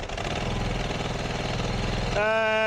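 A Ducati 749 motorcycle engine chugs at idle with a rapid throbbing rhythm, then revs up sharply near the end into a higher, louder whine.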